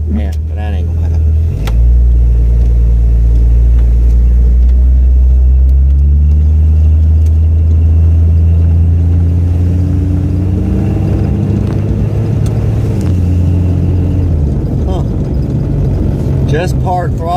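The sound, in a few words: car accelerating on road test with 60mm throttle body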